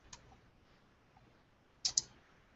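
Computer mouse clicks: a faint tick early on, then a crisp double click close by against near silence.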